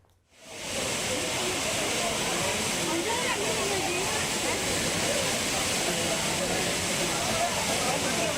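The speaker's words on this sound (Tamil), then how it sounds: "தென்காசி மாவட்டம் குற்றால அருவிகளில் தண்ணீர் வரத்து சீராக உள்ளதால் சுற்றுலா பயணிகள் வருகை அதிகரித்துள்ளது." Courtallam waterfalls in Tenkasi district pour down in a steady, loud roar of rushing water that swells in within the first second and then holds constant throughout.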